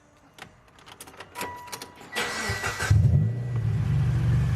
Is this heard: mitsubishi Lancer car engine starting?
yes